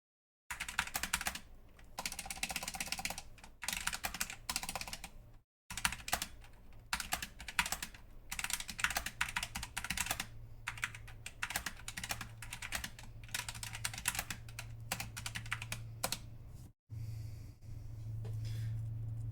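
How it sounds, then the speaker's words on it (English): A typing test on a Wooting One keyboard, rapid dense keystrokes clattering close and continuous for most of the stretch, with two short pauses and a low steady hum underneath. "Why don't I just do a quick little typing test?"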